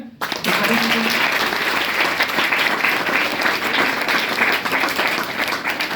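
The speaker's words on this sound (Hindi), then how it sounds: "इनके लिए एक बार और ताली हो जाए।" Loud, dense applause from a classroom crowd celebrating students selected in the SSC GD exam, with steady clapping that continues for about six seconds.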